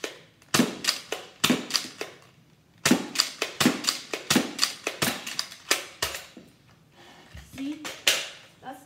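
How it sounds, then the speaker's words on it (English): Nerf N-Strike Elite Disruptor blaster fired repeatedly, a quick run of sharp plastic snaps with priming clicks, pausing briefly before a second rapid volley, close and loud. "I'll show you a firing demo."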